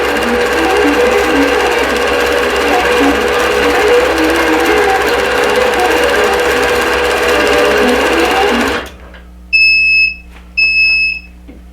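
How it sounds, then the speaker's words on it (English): A sewing machine stitches a conversation-heart quilt block with a loud, steady whirring run for about nine seconds, then stops, followed by two short electronic beeps. "Just like that, I've sewn one conversation heart here."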